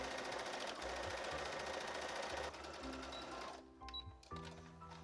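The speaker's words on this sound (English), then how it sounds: "And now I'm going to sew across either side of the sleeve." A sewing machine runs in a fast steady whir while stitching across the sleeves of a knit top, then slows and stops with a few separate clicks and clunks near the end.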